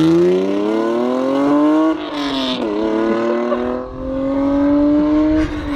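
A right-hand-drive JDM Spoon Honda NSX sports car passes loudly and close by, its engine note rising under acceleration, dipping briefly, then climbing again in a sustained roar.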